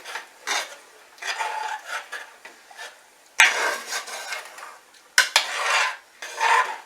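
Thickening blueberry pie filling being stirred in a pot for canning, with repeated scraping strokes of the spoon against the pot in uneven bursts, close up and without speech.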